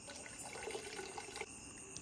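Water running from a tap fills a container indoors, a soft steady trickle and splash that stays faint and constant throughout the short moment, with no voices over it.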